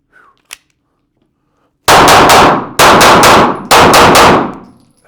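Pistol fired at a shooting range: after a short quiet pause with a faint click, three sharp, loud groups of shots ring out one after another, each echoing and fading.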